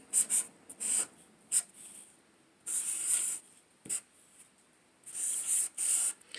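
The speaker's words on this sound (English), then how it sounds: "I'm going to write 3 numbers on my paper." Pencil writing numbers on paper, scratchy bursts of strokes coming in short clusters separated by quiet pauses, close and fairly crisp.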